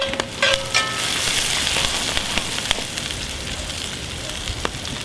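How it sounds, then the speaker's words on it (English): Food sauteing in a Dutch oven, a steady broadband sizzle and crackle with a few sharp pops, close and continuous throughout with no talking. "Like I said here, saute them a little bit"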